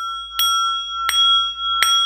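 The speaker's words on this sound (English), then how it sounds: "I have other chimes that like become really piercing in your ears" Three bright metallic chime strikes ring out at steady intervals, each with a sharp attack and a shimmering ring that lingers over a constant high sustained tone, heard during a toning session in Glastonbury.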